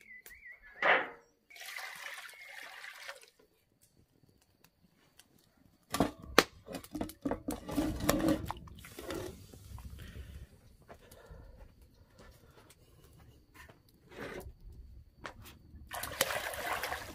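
Water running in a well beside a cabin in the woods, intermittent splashing and trickling bursts, fairly faint with quiet gaps between.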